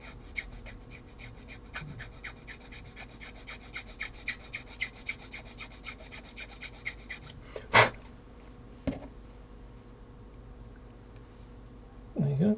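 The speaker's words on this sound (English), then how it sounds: "it's just a case of filing it out a little bit bigger" A file rasps back and forth on a small model part, enlarging an opening, in quick, fairly faint repeated strokes with a couple of sharper knocks near the end and in the closing second.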